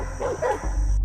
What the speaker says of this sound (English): American farms have a secret weapon: hunting dogs.